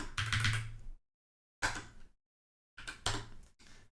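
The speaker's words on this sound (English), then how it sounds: "Having a little trouble typing this morning" Bursts of fast clicking keystrokes on a computer keyboard come in three short runs, separated by silent pauses, close and fairly quiet.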